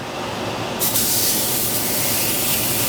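Loud, steady sizzle as rockfish fillets go skin side down into a hot oiled cast iron pan, a broad hiss that swells after a moment and holds without letting up.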